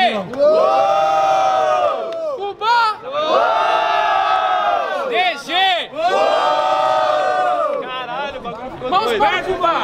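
A big crowd at a student rap battle in Guarulhos, Brazil roars and shouts in repeated surging waves, with brief dips between bursts of cheering, loud and continuous throughout.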